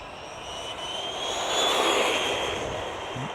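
RC rally car on a full-throttle test pass, a continuous high-pitched motor whine that rises toward the middle and eases off, steady and fairly close with no talk.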